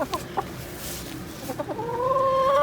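Backyard hens in a run cluck in short bursts, then settle into a steady, drawn-out crooning call close by, with no talking.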